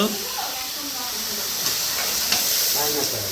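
Mutton sautés with ginger, garlic, green chilli pastes and Kashmiri chilli powder, giving a steady hissing sizzle with faint stirring scrapes throughout.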